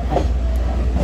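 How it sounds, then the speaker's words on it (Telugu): A train pulling away from Galboda station gives a steady low rumble of rolling wheels and carriages, close and continuous for a brief moment. "The train is moving from here."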